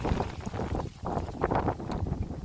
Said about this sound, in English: it's very windy this morning